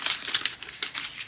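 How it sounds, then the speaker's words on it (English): Tarot cards shuffled on a table, giving soft papery riffling and crinkling bursts in quick repeated rounds, close and fairly quiet with no talking. "So I'm going to shuffle a couple of times."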